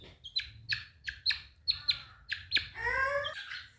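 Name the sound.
chickens chirping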